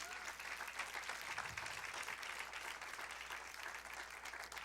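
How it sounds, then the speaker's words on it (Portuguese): Applause from a church congregation during a sermon, a steady wash of clapping at moderate distance that holds evenly throughout with no voices on top. "eu dava uma salva de palmas a esse Deus"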